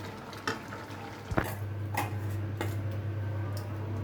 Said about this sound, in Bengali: তেলে ফোড়ন দিয়ে মাথাগুলো ভেজে নিব